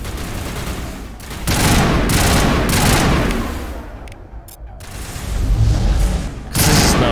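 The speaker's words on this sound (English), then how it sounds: "This is now a burst fire weapon." Burst-fire weapon shots in the video game Mass Effect Legendary Edition on PS5, loud dense gunfire clusters with sharp onsets, several bursts separated by brief lulls and a final burst near the end.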